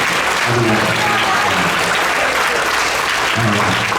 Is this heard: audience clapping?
yes